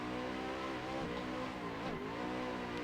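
Car drifting around a race track, engine droning steadily with rising and falling revs and a faint tire squeal, heard continuously from close inside.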